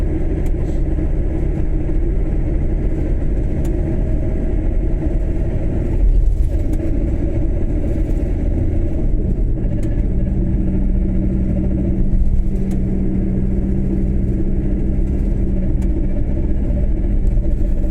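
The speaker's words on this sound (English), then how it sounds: "It's a noisy old bus, isn't it?" An old bus engine rumbles loudly and continuously at night on an Edinburgh road, a deep, steady drone with slight swells as it pulls away, heard from inside the vehicle with no talking.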